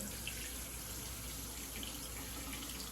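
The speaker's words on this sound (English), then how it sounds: "I'm gonna open the tap water" A tap runs steadily into a sink, giving a constant close hiss and splash of water with no voices.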